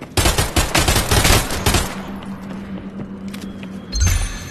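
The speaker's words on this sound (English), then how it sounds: "He's still just shooting at me." Gunfire in the VR shooter game Contractors Showdown: a rapid, loud burst of automatic shots for about two seconds. Quieter stretches with a low hum follow, then a final short burst.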